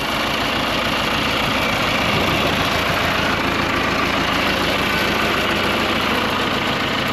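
Old 20-20 tractor engine running after being hot-wired: a loud, steady, rough idle with a pulsing low chug and clattering, close by and unbroken throughout.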